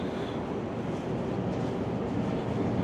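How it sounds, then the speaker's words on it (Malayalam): Steady, loud rumbling and rattling of a fast metro train carriage in motion in Australia, heard from inside, continuous with no talk. "നമ്മളിപ്പോൾ ട്രെയിനിൻ്റെ അകത്തേക്ക് കയറാണ്"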